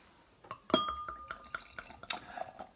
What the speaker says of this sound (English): Pouring that hazy New England color.